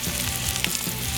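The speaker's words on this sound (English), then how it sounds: "I want that sizzle. That sizzle tells me that the pan is hot enough" Chicken breast sears in hot oil in a pan, giving a steady, loud, close sizzle and crackle with no pauses and no talking.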